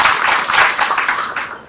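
A round of applause from a conference audience, dense steady clapping that stays fairly loud throughout and tapers slightly at the end.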